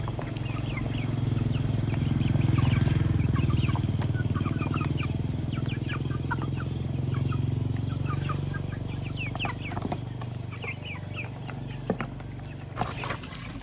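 Village chickens peck and eat fermented herbal feed, with scattered clucks and pecking clicks over a steady low background hum.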